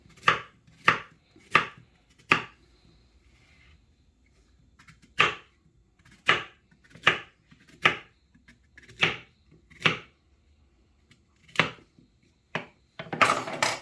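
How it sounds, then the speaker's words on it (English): Sharp knife chops plantain into small pieces on a cutting board, a quick run of evenly spaced strokes, a pause, then more chops finishing in a faster flurry. "I'm now going to cut my plantain in small pieces"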